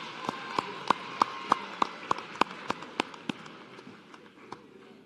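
Applause at a white coat ceremony comes through as a steady run of about fifteen sharp, evenly spaced claps, moderately near, fading slightly toward the end over a soft room murmur.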